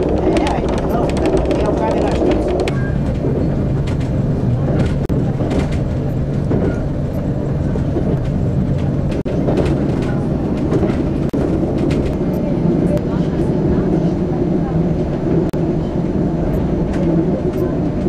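A train runs along the railway track in Sibiu, Romania, a steady rumbling roll with rhythmic clacking and squealing wheel noise, fairly close and continuous throughout.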